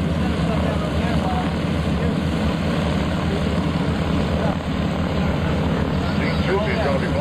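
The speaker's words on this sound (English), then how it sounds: "Alan Smith has a couple more passes for you, and then he'll be coming down and put that Navy back" Navy aircraft making a low pass at the 2004 NAS Oceana airshow, a steady loud engine roar holding throughout under crowd and announcer chatter.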